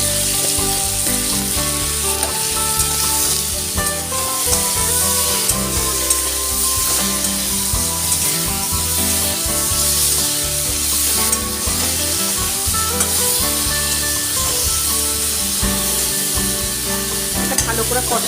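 Spice paste with tomato, turmeric and salt sautéing in a pan, a loud steady sizzle with repeated scraping and stirring strokes throughout, close and uninterrupted.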